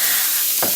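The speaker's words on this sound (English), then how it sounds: "You want to hear that sizzle?" Marinated tilapia sizzles in a very hot pan, giving a steady, bright hiss throughout with a short, louder burst near the end as the fish settles. No one speaks.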